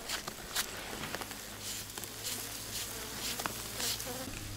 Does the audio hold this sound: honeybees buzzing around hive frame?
yes